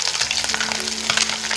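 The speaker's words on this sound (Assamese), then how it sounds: "এতিয়া ভাজি আছোঁ মাছ" Fish sizzling and frying in a hot pan, a steady dense crackle that fills the whole clip at close range with no talk.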